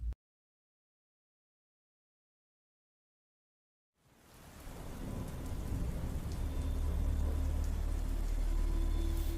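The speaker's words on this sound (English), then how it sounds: "as the storm continued its endless downpour" A thunderstorm with heavy, steady rain bursts in after about four seconds of silence, a dense continuous downpour with deep rumbling thunder underneath, growing louder and holding close and full to the end.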